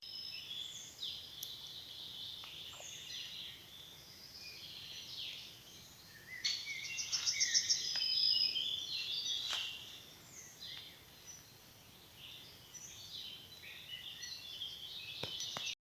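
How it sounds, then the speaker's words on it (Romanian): Birds sing in a forest, with scattered high chirps and short trilling phrases at a moderate distance over a quiet, faintly hissing background. "Ascultați cum cântă păsările, cât e de frumos."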